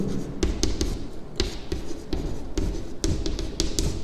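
Marker or chalk strokes on a board while working a class 10 polynomials problem, with quick tapping and scraping strokes in irregular bursts over a steady room hum, close and fairly loud.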